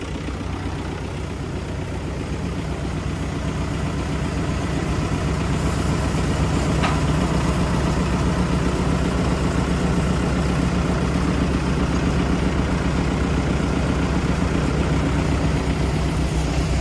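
A small tractor engine idles steadily on a farm during grain and pea seeding work, a continuous close, rumbling drone with a slight rise in level after the first few seconds and no talking.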